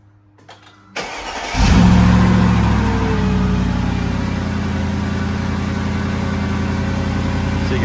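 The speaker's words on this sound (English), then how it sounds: "He's gonna give it a crank, and we're just gonna listen after the idle settles down for any misfires." A Mercedes V8 M113 engine cranks briefly, catches loudly and settles into a steady, fairly high idle that holds to the end, with no talk over it.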